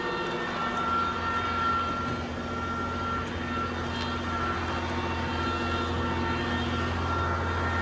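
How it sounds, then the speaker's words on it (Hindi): A tractor engine drones steadily and loudly on a farm in Italy, a constant unbroken rumble from start to finish with no pauses. "ट्रैक्टर की भी इतनी ज़्यादा आवाज़ है"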